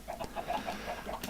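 Chickens on a Minecraft chicken farm cluck in a steady stream of short, repeated calls, fairly close, over a dense background hiss with no talking.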